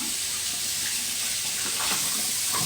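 Tap water running steadily into a sink while someone rinses their face, a constant close hiss with faint splashes near the end.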